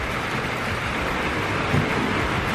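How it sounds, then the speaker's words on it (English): Rain starting to fall outdoors, a dense, even hiss of drops on surfaces holding steady and fairly loud from start to finish, with no voices. "I'm gonna have to start talking pretty loud just because the rain is starting."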